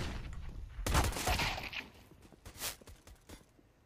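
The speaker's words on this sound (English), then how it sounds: "goes for the Glock shots, and finds the pistol ace" Pistol shots from a Glock in Counter-Strike, a rapid cluster of sharp cracks followed by a few more scattered shots, fairly loud with faint game ambience and no talk.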